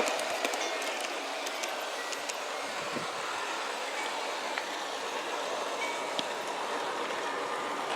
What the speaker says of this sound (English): Now the train is coming up to the center path.